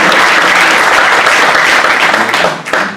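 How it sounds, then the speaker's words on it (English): A live audience at an evening creative-industry event breaks into loud, sustained applause, dense clapping filling the room without a break and easing slightly near the end. "Can we give Ali a round of applause for that?"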